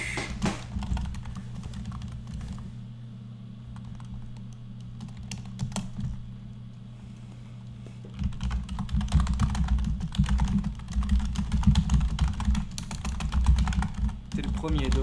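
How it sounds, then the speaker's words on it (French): Computer keyboard typing runs throughout as steady close clattering keystrokes, growing busier and louder in the second half, with occasional voice in the background. "le bruit de clavier."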